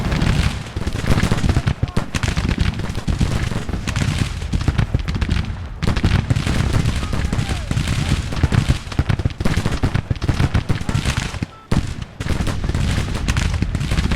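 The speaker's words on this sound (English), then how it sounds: "These infantry can shoot this unit. They're hitting their artillery unit there." Massed infantry rifle volleys and booming artillery fire from a Civil War battle in the game Grand Tactician, dense crackling gunfire rolling almost without pause, loud and close, with a brief lull near the end.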